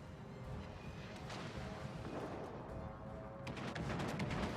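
Warship secondary battery guns fire in the naval battle game World of Warships Legends, a continuous rumbling barrage of shots with sharper cracks near the end, fairly quiet in the mix.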